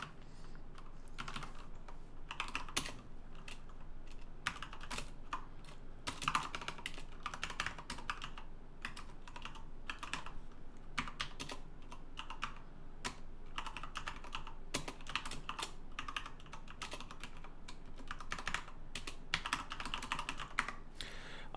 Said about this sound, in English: as you're keying the code in and you're moving the cursor down